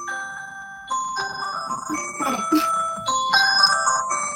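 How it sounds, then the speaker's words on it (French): A bell rings in clear, sustained tones with layered pitches and a few brief shifts, fairly loud and close, with no talking. "Comme la sonnerie."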